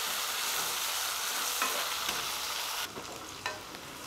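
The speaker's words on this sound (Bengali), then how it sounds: "পেঁয়াজটা ভালো করে ভেজে নেব।" Finely chopped large onion sizzles steadily in hot oil in a pan, with a spoon scraping and stirring it a few times; the frying noise is constant and close, with no talking.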